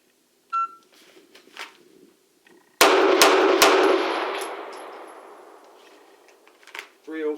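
Three rapid pistol shots from a Beretta APX A1 Compact during a draw drill at targets ring out close and loud in quick succession, each sharp crack trailing into a long echoing decay.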